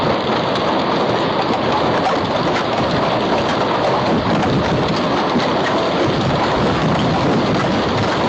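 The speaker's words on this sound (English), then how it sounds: "This sudden hailstorm turned a normal rainy afternoon into chaos as ice pelted the driveway and" A sudden hailstorm pelts a driveway with ice, a loud, dense, continuous roar of hard pellets and rain striking the surface up close, unbroken from start to finish.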